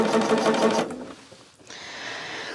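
A sewing machine stitches a jelly roll quilt block in a fast, even mechanical whir close by, stopping abruptly after under a second, followed by a soft handling noise and quiet room tone.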